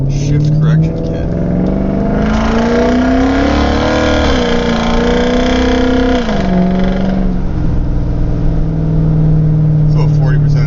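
An Infiniti Q45 accelerates hard at full throttle, its engine note climbing loudly and steadily close by, briefly dropping at a shift, then rising again, with someone talking over it.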